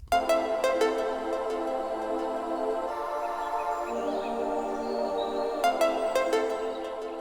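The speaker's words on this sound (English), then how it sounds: "I've got this ambient DNB pack that's got this little bird sample" Small chirping bird calls from an ambient drum and bass sample pack sit high inside a full atmospheric drum and bass mix with steady beats and pads, faint but audible, with no talking.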